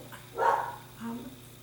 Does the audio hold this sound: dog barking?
yes